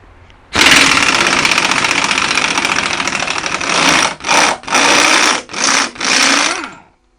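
Power tool loosening the lower shock absorber bolt on a Chevy Captiva: a loud, steady mechanical whir runs for several seconds, then breaks into four or five short bursts as the trigger is pulsed, with no talking.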